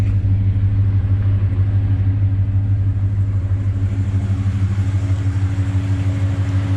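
A Nissan Patrol GU fitted with an LS1 V8 engine idles smoothly and steadily, a close, continuous low rumble with a strong, even hum and no talking.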